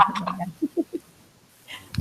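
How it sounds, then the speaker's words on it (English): A neighbor's chickens give three short, low clucks in a quick row after a brief spoken word, sounding somewhat distant and faint. "They're chickens."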